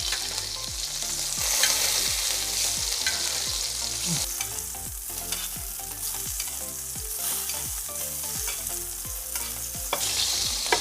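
A steak sears in a pan while being basted with butter and thyme, sizzling loudly and continuously, with steady rhythmic stirring and spoon scrapes and sharp pops throughout, no voices.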